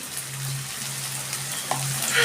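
Garlic and a little turmeric hit hot oil in a frying pan, setting off a steady, close sizzle that holds at an even level throughout with no talking.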